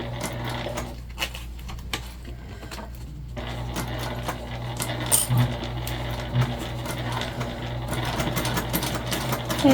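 A sewing machine stitches a seam on a pouch, running in a steady continuous drone with a low mechanical hum and faint clicks, close and alone with no voices.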